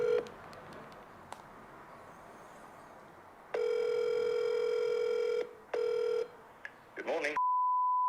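A phone call being placed: short tones and a long steady ringback tone with a pause between rings, then a clean electronic tone at the end, heard with faint room noise.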